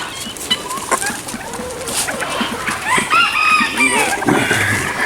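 Guinea fowl and turkeys on a homestead give off a busy mix of squawks, clucks and chattering calls at moderate distance, with birds calling over one another and no talk.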